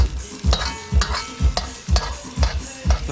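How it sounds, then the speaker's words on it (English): An egg being scrambled in a pan, rhythmic scraping and stirring strokes about twice a second over a light sizzle, loud and close with no talking. "So basically what I'm doing is just spreading out the egg. I just scramble it."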